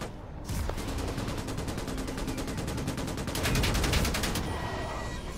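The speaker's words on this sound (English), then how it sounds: "we got those new machine guns" Sustained automatic gunfire from newly acquired machine guns in a drone-swarm video game mode, a rapid continuous rattle running nearly the whole time with a brief swell near the end, no talking.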